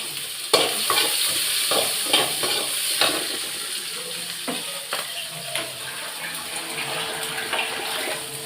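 Mustard seeds and dried chillies tempering in hot oil, a sizzling crackle with a few sharp pops and stirring scrapes, close and moderately loud.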